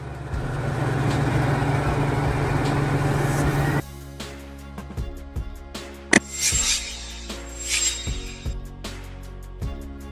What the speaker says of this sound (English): A heavy construction machine with a large blade at the front used for pushing and moving dirt